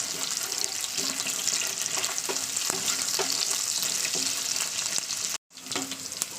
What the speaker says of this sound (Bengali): দিয়ে দিলাম পেঁয়াজটাকে এটাকে কিছুক্ষণ নাড়াচাড়া করতে হবে